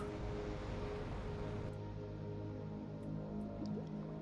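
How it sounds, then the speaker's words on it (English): Running water dripping inside a flooded base in the survival game The Planet Crafter, a steady wash of splashing and trickling with faint drips, continuous and moderately close with no voices. "We got running water now."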